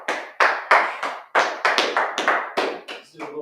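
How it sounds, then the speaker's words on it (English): A class clapping together, about ten sharp, close bursts of applause in an uneven rhythm, each decaying quickly, with a brief voice near the end. "Clap that up."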